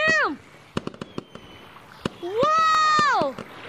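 Sharp firework pops crackle between rising whistling tones, with a fizzing burst starting and ending the short stretch, fairly loud and close; fireworks in the video game Gorilla Tag.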